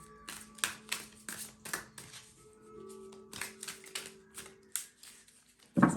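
Tarot cards are shuffled in quick bursts of crisp riffling and tapping, with soft handling noises between, recorded close and quiet.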